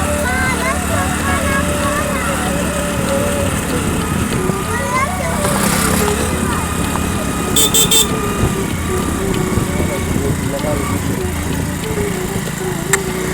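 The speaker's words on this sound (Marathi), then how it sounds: "गाडीला पहिलाच गिअर लावून जायला लागतो दुसऱ्या मध्ये गाडी अजिबात वरती जात नाही" A motorbike climbs a steep uphill road in first gear, its engine droning steadily beneath continuous close-up talk for the whole stretch.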